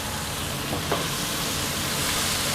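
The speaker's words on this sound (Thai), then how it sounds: "เราก็ผัดจนทุกอย่างสุก แล้วส่วนผสมทุกอย่างเข้ากันดีครับ" Morning glory and bacon stir-fry in a hot pan, giving a continuous close sizzle with a soft scrape or stir of the ingredients partway through.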